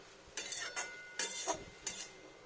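Pumpkin leaf greens stirred and mashed in a pan, a few distinct scraping, clattering strokes with a light sizzle between them, close and moderately quiet.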